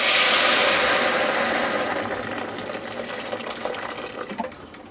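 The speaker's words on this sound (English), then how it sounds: "Now at this point, chuck in your hot water." About a litre of hot water is poured into a single pan of onion and mushroom soup with turmeric in hot oil. It starts as a loud rushing splash, then settles into a quieter bubbling and sizzling with small pops.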